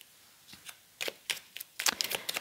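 A deck of cards shuffled for a card reading, a series of quick riffling bursts that grow louder and denser toward the end, close and alone with no talk.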